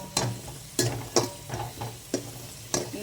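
Cashews and raisins frying in hot ghee in a pan, a steady sizzle broken by about six sharp scraping stirs of a spoon spaced roughly half a second apart, close and fairly loud with no talk.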